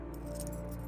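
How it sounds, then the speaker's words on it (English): Keys jangle in a short, close burst of metallic rattling inside a house in The Mannequin horror video game, heard over a low steady background hum with no talk. "Stupid keys. One of these has to be the right one."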